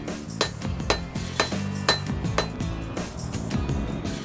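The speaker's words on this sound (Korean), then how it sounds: "망치 소리는 경쾌한 음악 소리가 되는 것" Hammer blows on metal in a small blacksmith's forge, a steady series of about nine sharp ringing strikes at an even rhythm of roughly two per second, close and loud with metallic overtones lingering between hits.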